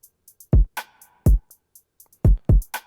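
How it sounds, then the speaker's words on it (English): A busy, crowded drum pattern plays solo in a beat, with heavy booming kicks, frequent ticking hi-hats and a snare-like hit packed close together, loud and upfront with no voices. "I'm going to play the drum pattern individually so you guys can hear just how cluttered and crowded it really is"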